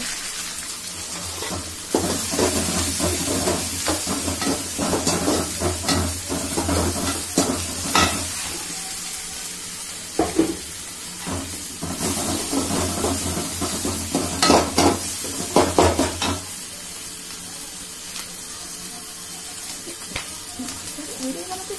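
Ginger, garlic and chili paste sizzling and frying in a pan, a steady loud hiss with scraping stirring strokes over it, quieter toward the end.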